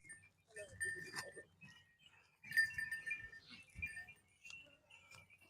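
Goats on a farm bleat in a few short calls, fairly quiet and spaced apart, with light rustling and faint clinks between them.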